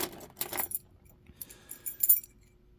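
A bunch of Yale keys jangles in a short, close, fairly quiet burst, with a lighter rattle of metal on metal following after a brief pause. No one speaks.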